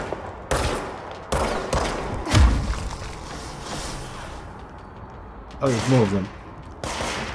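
Enemies shooting back in the video game Control, bursts of loud gunfire cracking at irregular intervals amid a busy combat soundscape, with someone speaking briefly over it.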